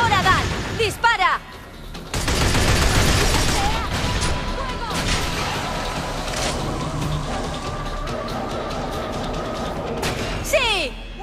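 Bursts of rapid gunfire and explosions crackle loudly in the video game Binary Domain, with a sustained barrage in the middle and sharper isolated shots near the end, game-like effects.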